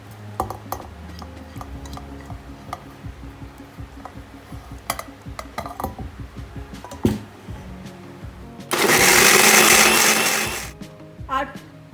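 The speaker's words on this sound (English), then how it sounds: "we'll pour this peanut sauce in a blender" A blender whirs loudly for about three seconds as it purees peanut sauce for baby corn satay, preceded by kitchen clatter of utensils, dishes and glass being handled.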